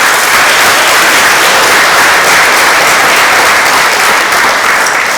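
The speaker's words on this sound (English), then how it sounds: "Can we give them another round of applause?" A crowd gives loud, dense, sustained applause for the Hall of Fame inductees at the Baldwinsville Central School athletic awards ceremony, with close, continuous clapping from start to finish.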